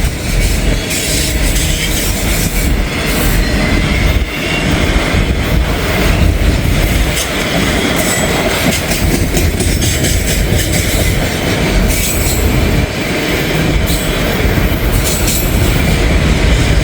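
A BNSF freight train rolls past close by, a loud, unbroken roar of wheels and rail cars with rhythmic clickety-clack and occasional wheel squeal, steady for the whole stretch with no voices.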